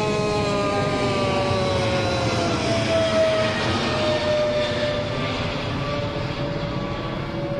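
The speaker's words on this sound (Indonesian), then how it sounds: "Ono pesawat lewat" Airplane passing overhead near Senai, Johor Bahru, a loud steady engine roar with a slowly falling whine that carries on throughout, heard over an outdoor site where a marquee tent is being put up.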